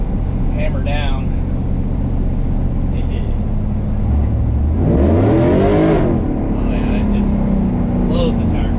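A ZR1500 truck build from Killer Performance accelerates hard along a road, its engine rising in pitch through a loud revving sweep midway, with a steady rumble and a voice talking over it.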